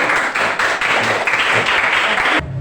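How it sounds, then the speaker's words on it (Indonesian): A classroom audience applauds a student presentation group, a dense burst of clapping for over two seconds that cuts off abruptly, with no talk over it. "Kasih applause dulu buat kelompok 1."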